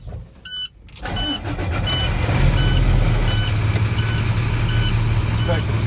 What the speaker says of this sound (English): I'm going to clutch down, turn my engine on, listen for any usual engine noises